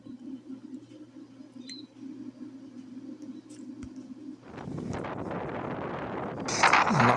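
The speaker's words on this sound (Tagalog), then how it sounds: "Malakas ang hangin dito" Strong seaside wind during rough, high-wave weather near a boat, rising suddenly into a loud, gusty roar after a steady low drone, growing louder toward the end.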